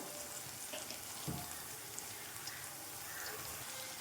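Chopped tomatoes frying with ginger garlic paste in a pan for a potato and green peas curry, giving a steady, quiet sizzle with a faint stir or scrape near the middle and no talk.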